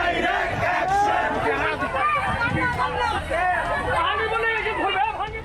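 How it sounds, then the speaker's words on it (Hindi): A large crowd in Comilla, Bangladesh, chants slogans loudly in rhythmic waves of many voices, with shouting and babble mixed through. "यहाँ भी भीड़ खुलेआम डायरेक्ट एक्शन का नारा बुलंद कर रही है"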